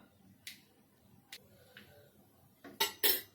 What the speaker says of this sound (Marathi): आता आपण ही केळी आहेत ही पण कापून घेऊया